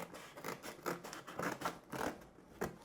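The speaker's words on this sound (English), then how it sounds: "we just use the scissors to cut a large chunk of the box off" Rhythmic crunching as scissors cut through a stiff cardboard box, about eight strokes in quick succession, close and moderately loud with no talking.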